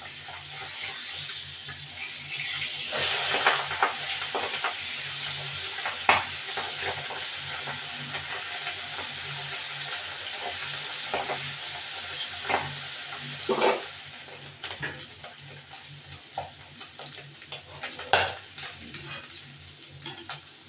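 Pabda fish frying in mustard oil with mustard, a continuous close sizzle and hiss from the pan, broken by occasional scrapes and clatters as the pieces are turned.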